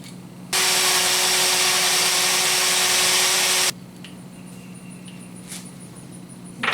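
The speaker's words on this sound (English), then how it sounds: "We're going to drill some pilot holes." A power drill bores pilot holes in a Harbor Freight Windsor workbench, giving one loud, steady whirring burst of about three seconds, followed by quieter handling noises nearby.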